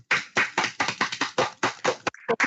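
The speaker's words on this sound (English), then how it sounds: "I want to give a big round of applause to ourselves." A small group claps together at a closing ceremony, about a dozen distinct, close, irregular claps that taper off at the end.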